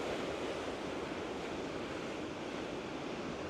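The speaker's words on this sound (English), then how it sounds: "right at the edge of the water on the beach, the wind is intense" Intense wind roars across the microphone at the water's edge on the beach by Sutro cave, mixing with steady crashing surf in a loud, continuous, distorted wash with no pauses.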